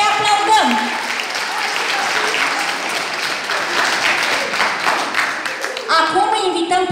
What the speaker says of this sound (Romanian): Să-i aplaudăm!